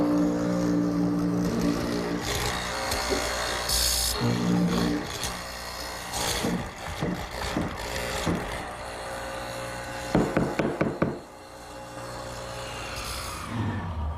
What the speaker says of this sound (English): I'm ready to make 2 mortises in each leg.